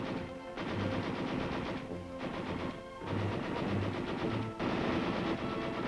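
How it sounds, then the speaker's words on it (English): On a practice range, a light machine gun fires in several loud, sustained bursts separated by brief pauses, a dense rattling roar with an old, compressed quality. "Then we fired the record course with the light machine gun."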